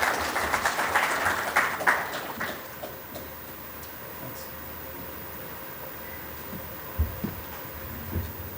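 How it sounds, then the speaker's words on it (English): An audience at a summit gives a round of applause, with dense clapping for about two seconds that then fades into a quiet room with a few faint knocks. "So a round of applause for Sunil."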